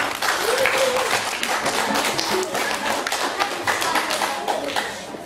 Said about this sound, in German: Ja, dürft ihr euch klatschen?